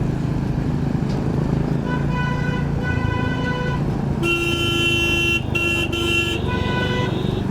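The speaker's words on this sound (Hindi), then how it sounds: "आप कितना भी हॉर्न मार लो।" Steady road noise on a highway in Jaipur carries under two long car horn blasts. The second blast is louder and more piercing, with short breaks in it, and sounds close by.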